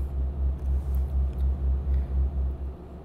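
A heavy 35-ton truck driving in a truck simulator game on a Turkey map mod, a low, steady engine rumble pulsing rhythmically as it cruises along.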